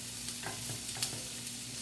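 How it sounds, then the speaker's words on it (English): Onions and vegetables sauté in oil and butter in a pan on high heat for Philly cheesesteak, giving a steady close sizzle with soft scrapes of stirring throughout and no talking. "So I'm just going to keep stirring. I've got my pan still on the high heat."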